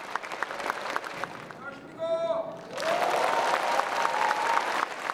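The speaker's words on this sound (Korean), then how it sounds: "여러분, 큰 박수 맞아주십시오." A crowd applauds loudly before a samul nori performance of traditional Korean percussion. Sustained clapping briefly dips midway under a few tonal notes, then swells back strongly.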